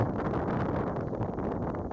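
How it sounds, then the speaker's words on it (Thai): Wind blowing steadily at a forest site where a bull elephant in musth stands, a continuous low rushing noise with no pauses, fairly loud and close to the microphone, with no speech. "ตอนนั้นเป็นเสียงลม"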